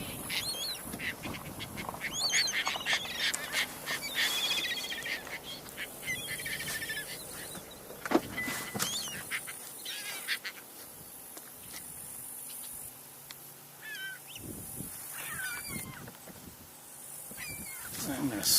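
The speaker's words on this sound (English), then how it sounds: "That raspy, maybe less than pleasant sounding call of a Caspian Turn." Raspy, harsh calls of a Caspian tern ring out repeatedly amid outdoor ambience, with other bird and insect noise in the background and a person speaking at times.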